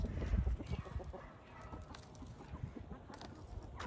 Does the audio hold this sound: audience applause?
no